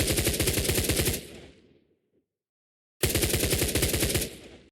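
Automatic rifle fire in an Unreal Engine 5 game plays as two loud bursts of rapid, evenly spaced shots, each tailing off into a short echo, separated by a second of silence.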